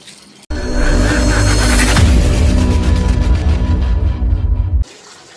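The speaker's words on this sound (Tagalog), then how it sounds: "so ligo muna ako" Water gushes steadily during a bath, a loud continuous splashing rush that starts abruptly and cuts off near the end, with no talking.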